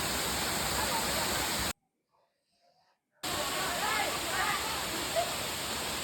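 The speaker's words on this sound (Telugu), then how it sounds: "అది కొండ పైనుంచి కాదు, ఆ రాళ్ళు మధ్యలోంచి వస్తుంది వాటర్ మొత్తం." Water from the Dhar Palle waterfalls gushes out between rocks as a loud, steady rushing hiss. It cuts out completely for about a second and a half, then returns just as strong.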